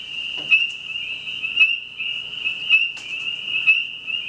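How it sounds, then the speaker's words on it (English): Spring peeper frog calling, a sustained high peeping chorus with a steady tone and sharper individual peeps standing out about once a second, moderately loud. "This is a spring peeper."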